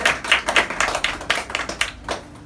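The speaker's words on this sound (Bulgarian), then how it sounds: "Моля аплодисменти за него." Short bursts of clapping from an audience at a Bulgarian mentalist's stage show, a dense rhythmic patter of hands lasting a couple of seconds, fairly close and loud.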